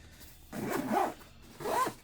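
Two quick zipper pulls on a limited-edition Hex/Jim Lee backpack, close and raspy, the first longer than the second, with a short pause between them.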